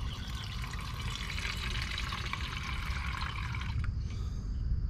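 Steady rushing stream of water pours into a pot for about four seconds, then stops abruptly, leaving a quiet trickle.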